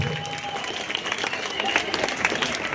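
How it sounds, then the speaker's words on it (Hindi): An audience claps together at an Independence Day school gathering with a retired Army guest, steady dense clapping held for a few seconds with a faint voice beneath it. "ताली बजा सकते हैं?"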